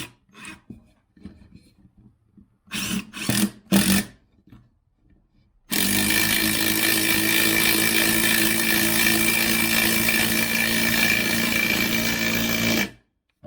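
A Hart 20V brushless 1/4-inch impact driver drives a lag screw into wood in one loud, continuous hammering run of about seven seconds, preceded by a few short scraping handling noises.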